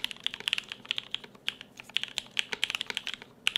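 Someone types at an uneven pace on a mechanical keyboard with a brass case, giving a close, crisp series of clacks with no voices.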